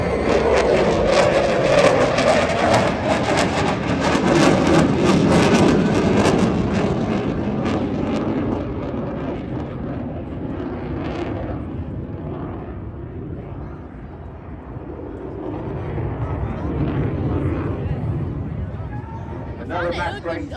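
An RAF Typhoon jet roars through airshow manoeuvres at Blackpool, including a tight 9G turn, its loud, broad thrust fading and then swelling again, with a commentator speaking throughout.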